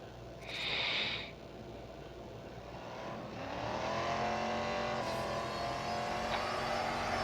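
Race cars in the Need for Speed No Limits mobile racing game, a steady engine roar that rises in pitch as the car accelerates, with a brief higher-pitched game tone near the start and no talking.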